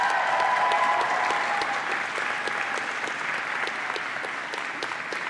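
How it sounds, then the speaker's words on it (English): Graduates at a university convocation ceremony applaud steadily, a dense wash of clapping from a large indoor audience that holds strong before gradually easing off, with a brief whistle near the start. "I invite you, the members of the graduating class, to reciprocate by applauding your family, your friends, the faculty,"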